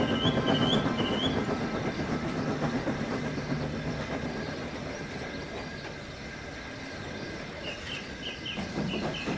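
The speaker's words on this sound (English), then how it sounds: "From what I can gather, Ivo's train broke away after he saw Lapis." A train rolls steadily along the rails with a continuous rumble and rhythmic clatter, close and fairly loud, while faint bird chirps come through at the start and end.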